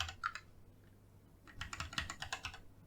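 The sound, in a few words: typing on a computer keyboard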